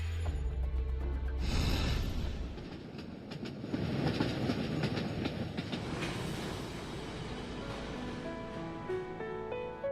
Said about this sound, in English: the train carrying She Tungmin stopped at Air Shui in Zhonghua, his hometown